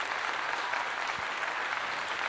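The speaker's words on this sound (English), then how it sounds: "Let's give her a cheer for that." Audience applause and cheering for an actress, a dense steady roar of clapping from a large crowd, loud and even throughout with no voices standing out.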